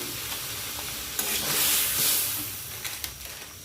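Vegetables sizzling in a pan with a dusting of cumin powder, stirred with a utensil; a steady hiss of frying runs throughout, swelling briefly in the middle, with occasional scraping knocks against the pan.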